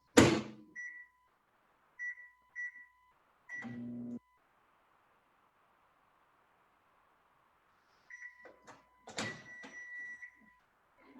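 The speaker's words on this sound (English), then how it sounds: "now you'll take the mug over to the microwave and set your microwave to 140" A microwave oven heating a chocolate mug cake: short electronic keypad beeps, a door thunk, then a long low steady hum of the running oven, followed by more beeps and clatter at the end.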